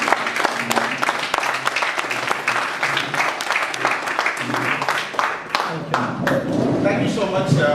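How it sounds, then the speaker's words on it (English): A Toastmasters club audience gives a standing ovation, with loud, crisp clapping continuing for nearly eight seconds and voices mingling in the crowd noise. "May I request all of you to give a round of applause, standing applause."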